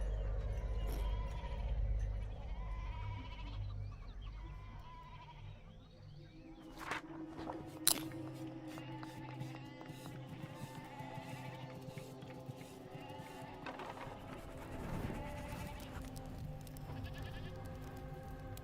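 Sheep bleating in the video game Wuthering Waves, with a few bleats rising over a busy game soundscape of music, footsteps and ambient effects.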